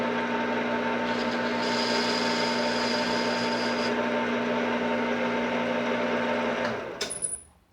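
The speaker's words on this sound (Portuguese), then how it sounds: "E faz o chanfro." A metal lathe cuts a chamfer on a workpiece with a 45-degree tool, giving a steady, continuous machining whine with a constant motor drone. It runs loud and unbroken for almost seven seconds, then trails off.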